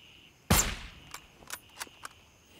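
Gunfire in the shooter game GZW at Fort Narith: one loud, close shot with a sharp crack and a ringing decay, followed by several fainter, scattered shots.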